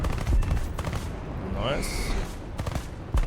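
Swedish 20mm aircraft cannon fire in a video game, rapid loud bursts at the start and again near the end, with a voice speaking briefly over the gunfire.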